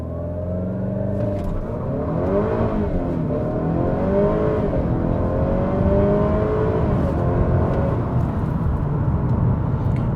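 A hybrid-turbo Honda Civic Type R FK8 engine revs hard with wheel spin during a 0-60 mph run, climbing in pitch, with a whining, rising drone that wavers as it accelerates, loud and sustained.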